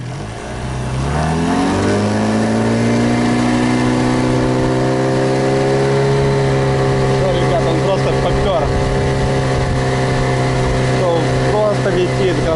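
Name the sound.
Gladiator 9.9 outboard boat motor running at speed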